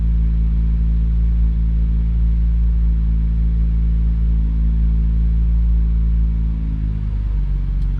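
BMW M2 engine holding a steady high idle during an oil change, a loud continuous low rumble close by that eases down slightly toward the end.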